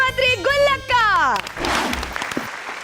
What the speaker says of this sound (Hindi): जोरदार तालियों के साथ स्वागत करते हैं किस्मतरी गुल्लक का।